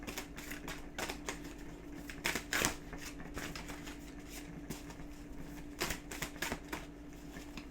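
Large oracle cards are shuffled by hand in a run of crisp, rapid riffling and slapping bursts, fairly close and steady, with no talking over them.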